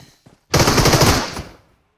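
Automatic gunfire in a battle royale video game: a few faint clicks, then a single loud, rapid burst of shots lasting about a second before fading to silence.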